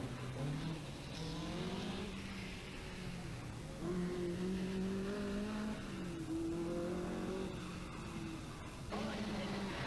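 A rally car drives a stage at the 1982 Rally of the Lakes in Killarney, its engine rising and falling through repeated revs and gear changes, heard from a moderate distance in old, faint recording.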